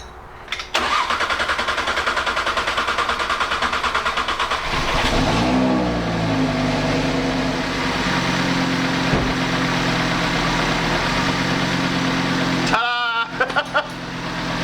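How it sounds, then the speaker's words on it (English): An Audi RS3 fitted with a TTE777 turbo cranks and fires, then settles into a loud, close, rumbling idle with a few small revs, briefly dipping near the end. "Now we're gonna get it going, start it up, and hopefully it starts the first time."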